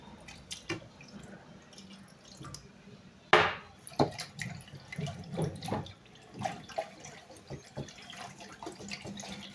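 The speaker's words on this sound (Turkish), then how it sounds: "Ardından bir buçuk su bardağı su ilave ediyorum." Water is poured into a yogurt mixture for Rumeli paça, making quiet, irregular splashes and drips with a sharper gush about a third of the way in, then softer sloshes.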